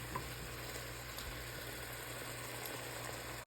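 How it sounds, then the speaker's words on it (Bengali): Spice masala for a chicken curry sizzling and bubbling in a pan, a steady, faint, even hiss of frying with no talking. "মশলাগুলো টকবক করে ফুটতেছে।"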